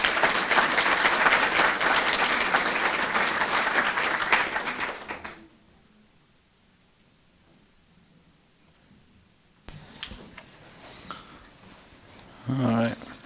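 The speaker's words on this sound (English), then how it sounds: "Please join me one final time for a round of applause for these campuses." Applause from the audience at a school board meeting honoring campuses, a loud full round of clapping for about five seconds that cuts off abruptly, followed by near silence and then a person speaking.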